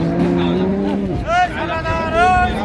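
A dairy cow and calf at a busy cattle market in Ambari, Dinajpur, give short, close, tonal moo-like calls amid market noise.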